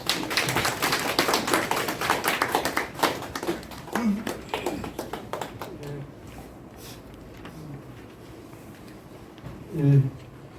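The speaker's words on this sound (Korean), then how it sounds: "박수로 맞이해 주십시오" An indoor audience claps to welcome a speaker at a commemorative event marking 100 years of Han Yong-un's 'The Silence of Love': several seconds of full, dense applause that thins into scattered claps, followed by a brief voice.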